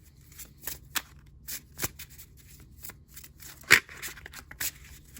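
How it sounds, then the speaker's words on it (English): A thick, heavy tarot deck being shuffled close by: soft riffling and sliding with scattered crisp snaps, irregular and fairly quiet in an otherwise still room. "let's go ahead and give this deck a shuffle."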